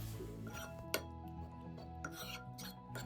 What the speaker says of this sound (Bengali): এবার চামচ দিয়ে ডালটাকে আমি খুব ভালো করে ঘেটে নেব